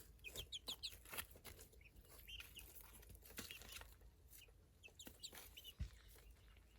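Hens sing egg songs, clucking and cackling in repeated rising bursts, fairly distant, with scattered thumps and rustling between the calls.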